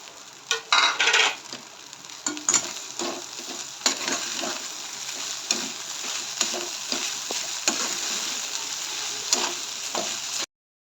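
Poha with freshly added coriander stirred in a pan for kande pohe: a steady soft sizzle with frequent scraping and clinking of the spoon against the pan, close and continuous, no talk.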